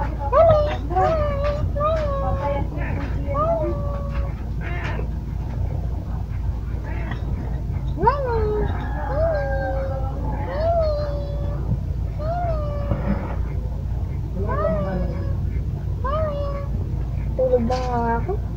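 A cat meows repeatedly in short, plaintive calls spaced a second or two apart, fairly close, over a steady low background hum.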